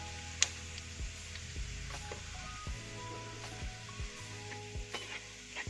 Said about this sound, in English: Deep fry until golden brown.